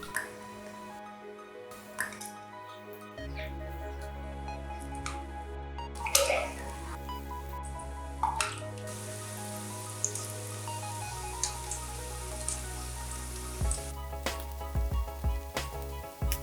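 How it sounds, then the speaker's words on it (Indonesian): Steady bubbling and sizzling of pastries deep frying in hot oil over medium-high heat, with occasional pops and crackles throughout, fairly close. "goreng pastel contong dengan menggunakan api sedang agak besar di awal, seperti ini"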